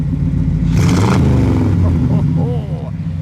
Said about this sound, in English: Peter, give it a rev. One more good one.